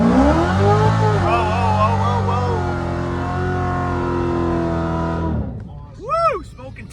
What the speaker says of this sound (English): I like to do what they call a rolling burnout